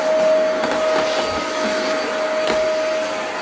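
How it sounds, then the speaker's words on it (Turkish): A household vacuum cleaner runs steadily indoors, a loud continuous whirring drone with a fixed tonal whine throughout and no talk over it. "Süpürgeden korkmuyorsun Osman."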